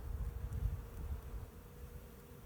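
Honey bees drone in a low, steady buzz during a spring hive inspection, a dense murmur close by that swells slightly early on and then holds without talk.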